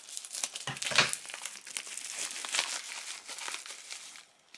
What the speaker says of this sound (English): It's in bubble wrap. Okay. So I'm just going to cut it like this.